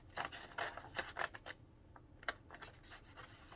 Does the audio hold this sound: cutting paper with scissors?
yes